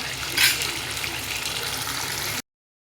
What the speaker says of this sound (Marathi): आता मी पाणी टाकून घेते।